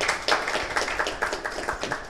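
Audience clapping at an official launch ceremony for a rehabilitation centre, a modest, fairly sparse round of separate claps in a loose rhythm, moderately near and not very loud.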